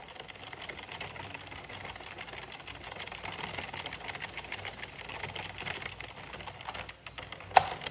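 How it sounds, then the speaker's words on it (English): An Addi knitting machine being slowly cranked makes a continuous fast ticking and clicking rattle of plastic needles, steady and close throughout, ending with one sharper click. "I like to watch and make sure that none of the stitches pop up when I'm slowly cranking"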